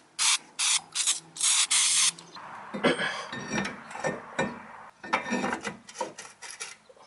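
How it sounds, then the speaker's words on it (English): Aerosol brake cleaner sprayed onto a new brake rotor in bursts, several loud hissing sprays in quick succession, then quieter rubbing and clinking sounds. "So I'm going to spray this down with a little bit of brake clean here to remove any of the oil"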